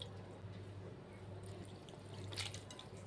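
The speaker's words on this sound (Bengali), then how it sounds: "একটু জল দিয়ে চিড়েটাকে সুন্দর করে ধুয়ে নেব।" Flattened rice (chira) washed with water: a faint, steady watery swish and trickle with a brief splash near the end, no voices.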